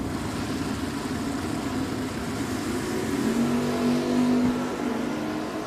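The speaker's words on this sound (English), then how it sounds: "Eric Bradby, 565 in the Mustang." Ford Mustang drag car accelerating hard off the line at a drag strip, a steady engine roar holding at a distance before the pitch climbs and swells louder near the end.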